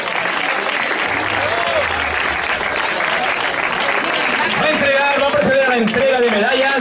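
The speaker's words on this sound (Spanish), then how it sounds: "Un fuerte aplauso, que han hecho un gran esfuerzo." Loud, steady applause from a crowd at a triathlon in Tíjola, Spain fills the whole stretch, dense clapping without pause, with a few voices and cheers rising near the end.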